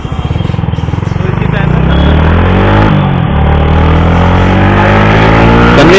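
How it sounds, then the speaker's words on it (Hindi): A Yamaha MT-15 motorcycle engine idling close by, then rising into a loud, steady mid-pitched drone, with a voice talking over it. "और भाई देखो क्या आवाज आ रही है बाइक की, मजेदार एकदम।"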